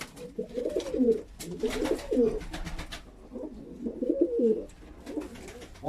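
An Ankara Bozkırlı pigeon with a rust-coloured breast coos repeatedly, soft rolling phrases close by with rustling and faint background noise between them.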